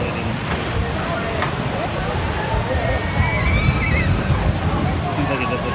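At a Disney Magic Kingdom ride, water gushes and sloshes from a pipe in a continuous loud rush to imitate a big splash, with outdoor crowd noise around it.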